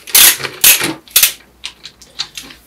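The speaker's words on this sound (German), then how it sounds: "Dazu brauchen wir hier einen Ratsch, 19er Nuss und dann kann man das eigentlich relativ einfach hier lösen." A ratchet fitted with a 19 mm socket loosens the rebound adjuster on a WP AER 48 motorcycle fork. Three loud, sharp clicking bursts come first, then several fainter, lighter clicks, close up with no talking.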